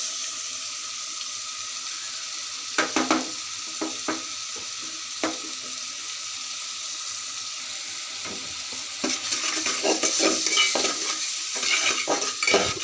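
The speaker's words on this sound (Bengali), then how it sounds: "ভালো করে মশলাটা কষিয়ে নেব" Turmeric, chilli and salt being stirred and fried with vegetables (ridge gourd, prawns and potatoes) in a pan, heard as a steady close sizzle with repeated scraping strokes that grow busier toward the end.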